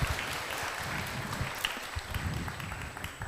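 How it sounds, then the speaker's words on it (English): An audience at a QA conference session claps in sustained, even applause, a dense wash of many hands heard throughout without any talk. "Applause for Lena."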